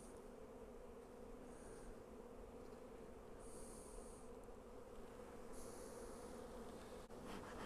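Honey bees in an opened hive box give off a dense, continuous buzz, close and even, with a few louder passes from individual bees flying near. No voices are heard.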